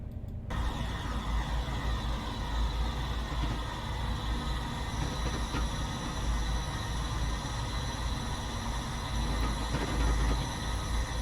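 Locomotive rolling steadily through Totnes station on the avoiding line in Train Simulator Classic, on the Plymouth to Exeter route: constant loud rumble with rail hum and a faint high squeal, sustained throughout.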